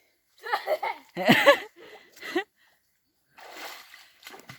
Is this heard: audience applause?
no